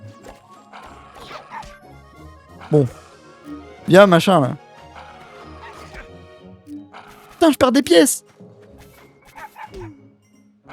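A dog in a video game barks and yips in two loud bursts amid game noise, while someone talks over it throughout.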